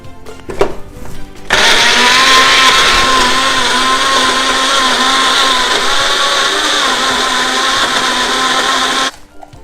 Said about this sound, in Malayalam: നമുക്കിത് നന്നായിട്ടൊന്ന് ബ്ലെൻഡ് ചെയ്തെടുക്കാം